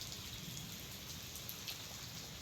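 Steady rain falls in Kerala, a dense, even hiss of drops on surfaces that stays at constant loudness throughout with no voices.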